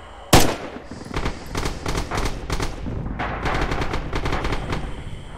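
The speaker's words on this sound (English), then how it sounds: "I'm shooting more rounds than enemies," Rapid bursts of gunfire in the video game Red Orchestra 2, with a sharp loud opening shot followed by repeated staccato volleys of automatic fire at moderate distance.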